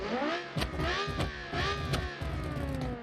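A V10 engine in a game-built DTM race car screams at high revs with quick gear changes causing brief dips, close and loud, no speech.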